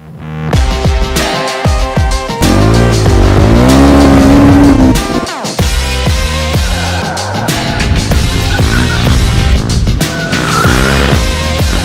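A motorcycle drifting, its tire squealing loudly and continuously while the engine roars close by, with pitch sweeps as the bike slides.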